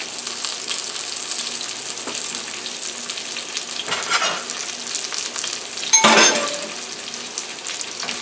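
Crushed garlic sizzling in a hot frying pan beside salmon and potatoes, a steady close crackling fry with occasional stirring scrapes and a brief louder burst of sizzle, and no talking.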